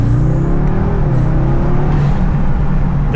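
Car running on E85 fuel accelerating hard in a lower gear with traction control off, a loud close engine roar rising steadily in pitch throughout.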